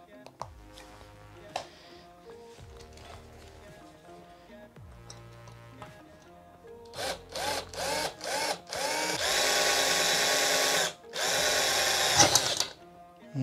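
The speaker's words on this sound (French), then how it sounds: "Maintenant, on va percer." Drill boring a hole through metal lubricated with salad oil while motorising a Bresser NG telescope mount; after a quiet stretch, loud bursts of drilling start around seven seconds and build into long sustained whining runs, with brief pauses between.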